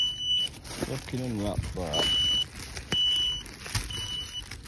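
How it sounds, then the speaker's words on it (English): An alarm found inside a box gives repeated, evenly spaced high electronic beeps about once a second, loud and close, while someone talks over it with some rustling. "There's a fucking alarm in here."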